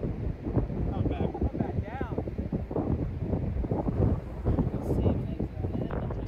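Strong wind buffets the microphone on a golf course at Pacific Dunes, a constant gusty roar throughout, with a voice heard under it.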